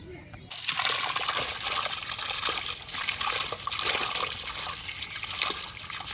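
Fresh catla fish being washed, a steady close rush of running, splashing water that fills nearly the whole stretch after a quiet start, with no voices.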